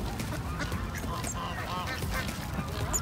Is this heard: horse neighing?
no